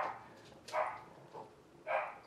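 A dog indoors gives a few short, faint barks, three separate bursts spaced across a quiet room, with no voices over them.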